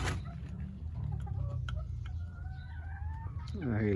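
Hens cluck in a breeding pen, short rhythmic calls and a brief crow-like cry scattered over a steady low farmyard rumble, fairly close, with a louder rising call near the end.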